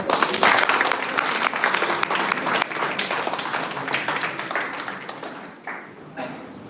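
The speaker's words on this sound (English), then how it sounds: "Please give a big round of applause." Audience at a university felicitation ceremony in Berhampur claps in a loud, dense round of applause that gradually thins and fades, with a few last scattered claps.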